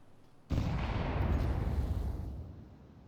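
A grenade going off in a Counter-Strike match, a sudden loud blast after a quiet moment followed by a broad rumbling roar that slowly fades over a couple of seconds, with no speech.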